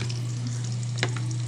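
Hot dogs fry in a hot pan with a steady, close sizzle. A single faint clack comes partway through.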